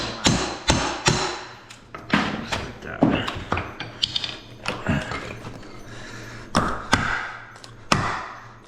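Repeated sharp hammer knocks and prying thuds as trim is pried out during vinyl plank flooring installation, at irregular intervals, close by, with brief talk in between.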